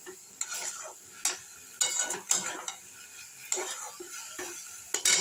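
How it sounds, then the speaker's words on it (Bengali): Banana flower stirred and fried in a pan: repeated scraping strokes of a utensil against the pan come in irregular bursts, with a faint sizzle underneath, close and fairly loud. "যতক্ষণ না জলটা শুকনো শুকনো হবে ততক্ষণ আমি ভাজতে থাকবো এইভাবে।"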